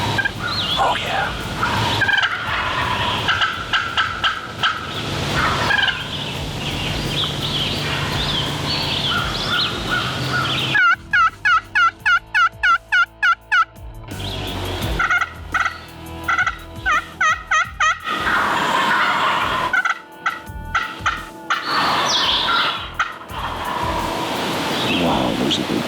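A wild turkey gobbles repeatedly during a spring hunt in New York, with loud rattling bursts standing out over outdoor background noise and some quiet human sounds.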